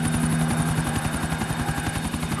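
A helicopter in a video game race, downed in the water, throbs with fast steady rotor chopping and a continuous engine drone, loud and close throughout.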